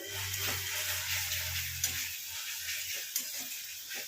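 Ginger-garlic masala with yogurt sautéing in a pan, a soft continuous sizzle with a couple of light utensil taps, fairly quiet.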